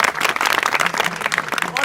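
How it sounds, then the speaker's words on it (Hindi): Students and staff at a school event at Swami Dayanand Saraswati Inter College in Uttar Pradesh clap for a volunteer, giving a short burst of dense, close applause that blends with a voice talking over it. "ताली बजाओ इनके लिए"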